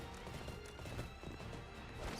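Horse hooves clatter with a close, mid-loud clip-clop in the Arslan: The Warriors of Legend video game, mixed with a whinnying neigh and battle clashes in a busy game soundscape.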